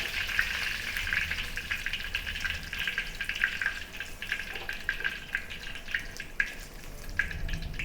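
Garlic fries in oil in a wok with a steady, bright, crackling sizzle, close and moderately loud, with small popping bursts and no talking.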